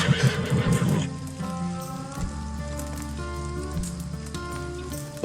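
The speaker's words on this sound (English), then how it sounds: "The horse." A horse whinnies loudly at the start in a video game, Red Dead Redemption, followed by a sustained layered musical backdrop with steady tones continuing to the end.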